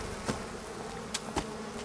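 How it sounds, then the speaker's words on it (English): Buzzing bees in a cartoon scene, a steady insect drone with a few brief louder passes near the start and middle, no talking. "I got the bees."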